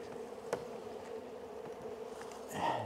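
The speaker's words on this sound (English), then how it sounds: "Lots and lots of new bees" Honeybees hum during a spring hive inspection, a faint continuous buzz with a few louder bees passing close to the microphone.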